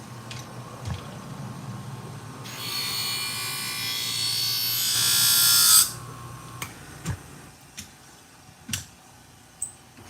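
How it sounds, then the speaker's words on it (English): Scissors sharpened on a honing wheel at a sharpening service for an auto upholstery shop: a steady whirring hiss lasts about three seconds, then a few quiet taps and clicks follow. "Honing wheel."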